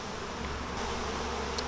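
Honey bees buzz around a busy hive entrance in warm weather, a steady close droning hum with no break across the short stretch.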